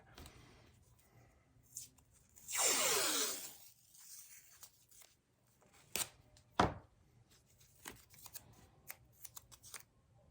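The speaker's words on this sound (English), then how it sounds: "I'm going to take a piece of masking tape or painter's tape" Masking or painter's tape rips off its roll during a wooden door-sign craft project: one sustained tearing burst, followed by scattered small clicks and taps close by in a quiet room.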